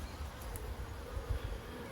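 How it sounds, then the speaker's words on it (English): Honey bees buzz around an open top bar hive during an inspection, a steady low drone from several insects close by with small swells as individual bees pass near. "There's a few buzzing around me as well"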